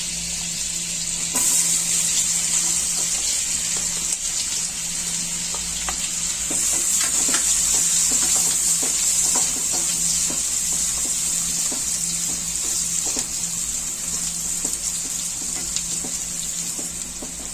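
Steady, continuous sizzle of chopped onions frying in butter, with occasional stirring clicks and scrapes in the pan; no talking.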